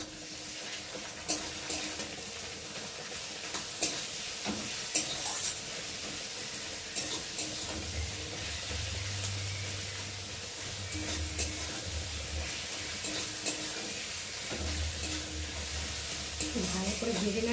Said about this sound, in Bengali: এখন আমি এই যে মশলাগুলো দিয়ে ভালো করে ভেজে নেব।